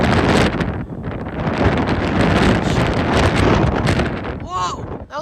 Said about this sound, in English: That was like a 40-mile-an-hour gust.